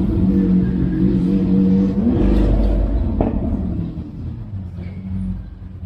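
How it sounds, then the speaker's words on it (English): A black matte Ferrari on a city street, its engine roaring and revving loudly up close amid traffic noise, the throaty sound swelling and then easing off as it passes. "It's a black matted Ferrari."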